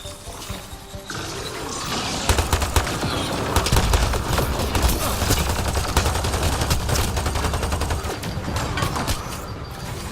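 Rapid bursts of laser weapon fire in the sci-fi shooter Mass Effect Andromeda, loud and dense, with crackling shots and impacts layered over a low rumbling battle bed for most of the stretch.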